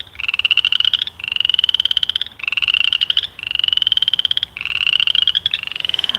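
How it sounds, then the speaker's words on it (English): Frogs croaking loudly at close range in a natural setting, long buzzing trilled calls repeating in steady bursts with short gaps, and no talking. "That's a lot of frog goodness there."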